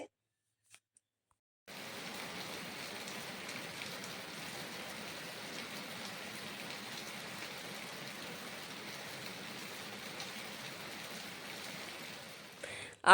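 After a second of silence, a steady dense hiss of torrential rain sets in and keeps falling evenly, fairly soft, heard from indoors.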